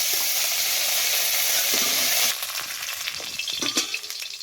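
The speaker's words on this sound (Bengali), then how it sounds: "কারি পাতাটা একটু ভেজে নেব।" Curry leaves fry in a pan with a loud, dense sizzle that eases after a couple of seconds into softer crackling and a few stirring scrapes, close by and without talk.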